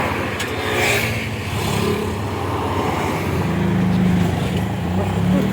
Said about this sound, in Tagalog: Dito na po yung aming sasakyan, Charis.